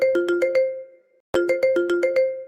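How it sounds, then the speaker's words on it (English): A phone ringtone ringing in a quiet kitchen at night, two identical bursts of bright, chiming electronic tones in a quick rising pattern, separated by a short silent pause, loud and close. "I let the phone ring twice more."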